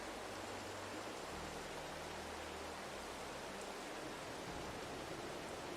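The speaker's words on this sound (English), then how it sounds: "It's too windy, it's raining, we don't want to put anything on the field." Rain falling on a farm in a first-person farming video game, heard as a steady, soft broadband hiss with faint low rumbling underneath and no voices.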